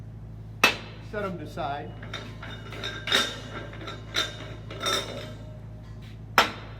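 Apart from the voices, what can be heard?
removing valve protection caps from oxygen and acetylene tanks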